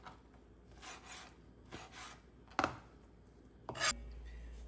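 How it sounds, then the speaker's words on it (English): A knife cuts three bacon slices into pieces on a board, making soft, close slicing and rubbing strokes in an uneven rhythm, with a couple of sharper taps of the blade on the board. "the pinto bean recipe calls for 3 slices of bacon. So I'm going to cut those up into pieces."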